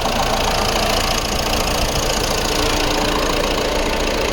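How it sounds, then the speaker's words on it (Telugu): A 2016 Ford EcoSport Titanium diesel engine idles steadily with the bonnet open, a close, continuous mid-low rumble with a faint rhythmic clatter and no talking. "బానెట్ ఓపెన్ చేసి ఇంజన్ సౌండ్ ఎలా ఉంది అని చూపిస్తాను సార్"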